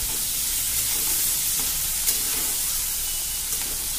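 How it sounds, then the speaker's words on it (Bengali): Shrimp coated in salt and turmeric fry in oil in a wok, a dense, even hiss of sizzling that holds steady throughout with a couple of faint clicks near the end. "আমি চিংড়ি মাছটা ভেজে নেব"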